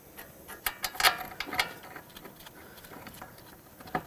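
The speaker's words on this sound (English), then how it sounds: "start on your 2 caliper bolts" A hand ratchet tightens the brake caliper bolts on a 2007-2010 Chrysler Sebring, with quick clicking pawl ticks in uneven bursts, close and fairly quiet, and no talking.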